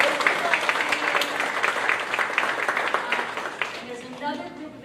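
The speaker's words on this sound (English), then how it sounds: "One more round of applause." Guests at an awards celebration clap in a sustained round of applause, a lively patter of many hands that thins out toward the end as a voice begins to speak.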